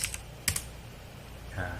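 Keyboard typing of a terminal command in Ubuntu 24.04 running in VirtualBox: a few quiet, close keystrokes, a couple of clicks early on, then a short pause before a faint tonal hum near the end.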